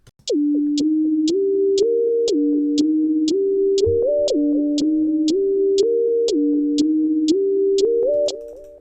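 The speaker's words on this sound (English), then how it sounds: "So our hi-hats here, I put them on the down beat." Crisp hi-hat ticks land on every beat in a steady pulse over a sustained electronic synth line that steps between notes.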